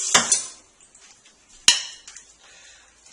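A spoon stirs red mixed vegetable juice into gazpacho in a bowl. Two sharp clinks against the dish stand out from soft scraping and light taps, heard up close with no voices.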